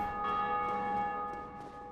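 A large bell tolls in the video game Dark Souls, one sustained ringing strike with long shimmering overtones that slowly fade, heard alone with no voices.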